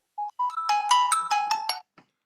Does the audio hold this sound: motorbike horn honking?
no